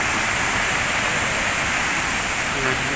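Chet Sao Noi waterfall in Saraburi pours in a loud, unbroken hiss of falling water, steady throughout, with a faint voice briefly rising near the end.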